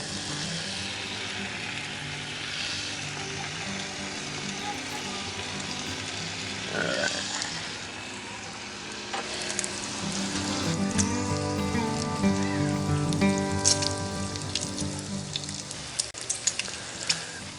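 Bacon strips frying in a Dutch oven, a steady low crackling sizzle that grows busier and denser partway through, heard close with no talking.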